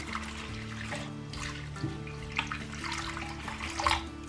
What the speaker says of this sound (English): Now we're going to add into here 2 cups of warm water, about as warm as your tap will go.